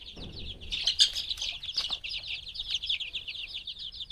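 Young native chicks about eighteen days old in a poultry shed make a continuous chorus of high, overlapping chirps and peeps close by, with occasional soft rustling.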